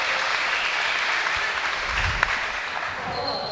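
Applause from a crowd at a university squash semi-final rings out steadily for several seconds after a rally, fairly distant and sustained throughout.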